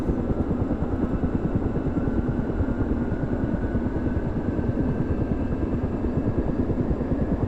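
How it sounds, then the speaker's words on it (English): Twin engines of a Ka-50 Black Shark helicopter spin up in a flight simulator, a steady loud turbine whine and dense rotor rumble that holds evenly throughout with no voices. "both our engines are now spinning up"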